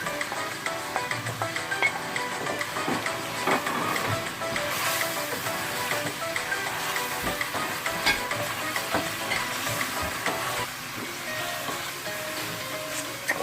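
Bean sprouts and mushrooms stir-fry in a hot pan with steady loud sizzling and frequent scraping and tossing clatters from the utensil.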